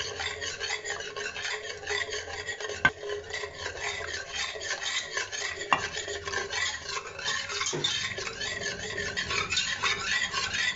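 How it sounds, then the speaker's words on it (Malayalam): A whisk stirs milk into white sauce in a pan, a steady close scraping and swishing rasp that runs throughout, with a few sharp taps against the pan and no talking. "ഒരു വിസ്ക് വെച്ചിട്ട് നമുക്കിങ്ങനെ ഇളക്കി കൊടുക്കാം"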